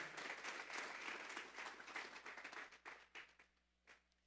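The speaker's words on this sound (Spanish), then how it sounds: "Vamos a darle una ofrenda de palmas a Dios en esta hora." A church congregation at a Sunday afternoon service gives a dense burst of applause that is quiet and somewhat distant, then thins into scattered final claps and fades out.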